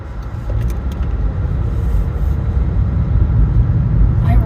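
A car driving on the highway near Palmer, Alaska, heard from inside as a loud, steady low road rumble and engine drone that builds slightly over a few seconds.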